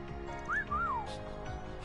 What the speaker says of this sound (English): Oh, the whistling.